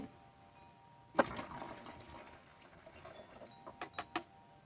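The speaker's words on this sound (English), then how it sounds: "We gotta pour some of this water in them." Water is poured into large garden plant pots, starting with a sudden splash and continuing as a soft trickle, with a few sharp knocks or drips near the end and no talking.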